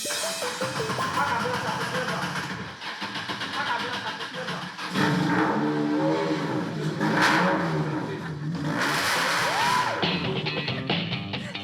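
A rally car engine cranks and catches, then revs up and down several times with loud roaring bursts at the Bingerville Rally. Voices are faintly audible beneath it.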